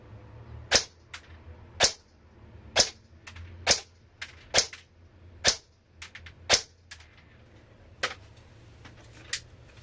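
An airsoft AEG rifle fitted with an Akaishi Da-Vinci carbon steel precision inner barrel fires about a dozen sharp single shots through an Ace-Tech chronograph, each a crisp snap spaced roughly a second apart, close and without speech.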